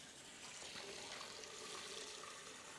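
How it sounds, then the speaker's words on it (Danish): Water runs steadily from a jug into a blender for a green smoothie, a soft continuous splashing and gurgling pour held at the same level for about three seconds, fairly close and with no one speaking. "Så kommer vi lige 3 dl vand dernede."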